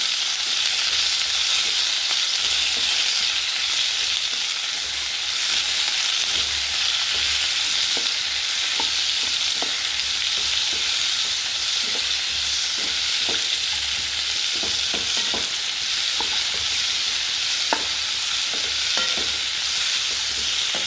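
Curry leaves frying in hot oil in a pan, a steady loud sizzle running throughout, with scattered stirring clicks and taps, close and continuous with no talking.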